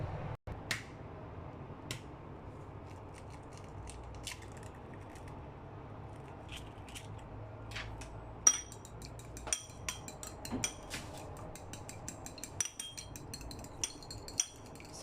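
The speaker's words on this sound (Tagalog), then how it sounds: "magbabati po tayo ng itlog" Eggs being beaten in a bowl for a homemade sandwich, heard as quiet, fast, light clinks and taps. The beating grows denser and more rhythmic in the second half, with no talking.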